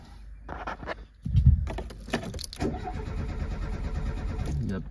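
A Renault Super 5 GT Turbo with no ignition cranks over on its starter without catching, a steady churning whir running for several seconds after a brief click and clunk.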